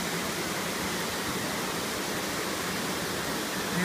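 Pukele Stream in Honolulu runs high and fast, swollen by the rains of Hurricane Darby, giving a steady, broadband rush of water that holds even and loud throughout without any voices.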